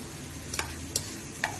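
Dried fish with ginger-garlic paste and salt frying in a pan, a quiet, steady sizzle punctuated by three sharp utensil taps.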